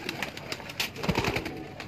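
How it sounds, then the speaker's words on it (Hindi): A pigeon softly coos at a breeder's loft in Lahore, faint and close amid low background rustle. "बड़ा प्यारा कबूतर है"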